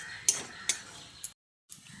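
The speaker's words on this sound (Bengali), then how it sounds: "এবার সব কিছুকে একসঙ্গে ভালো করে নেড়েচেড়ে মিশিয়ে নিতে হবে।" Okra curry with a yogurt mixture is stirred in a pan, giving three light metallic clinks of a spoon against the pan, quiet and close, over a soft bubbling background with a brief silent gap.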